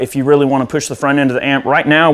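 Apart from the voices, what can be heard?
No everyday noises stand out.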